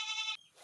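A single goat bleats close by, a short nasal harmonic cry, among pregnant goats being fed in the rain on a small farm.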